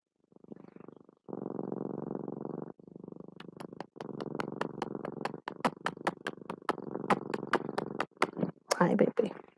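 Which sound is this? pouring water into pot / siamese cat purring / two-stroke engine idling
siamese cat purring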